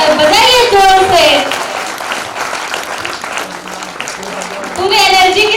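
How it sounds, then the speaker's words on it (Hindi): Applause follows a dance performance at a Brahma Kumaris birthday celebration in Korba, steady clapping beneath a loud voice talking at the start and end, with children's voices mixed in. "तो तालियों में कमी क्यों? बजाइए जोर से।"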